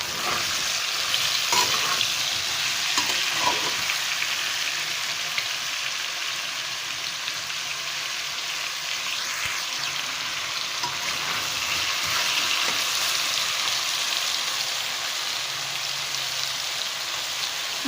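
Pumpkin and potato pieces fry in a pan and get stirred, a steady, close sizzle running unbroken throughout with a few soft scraping touches from the stirring.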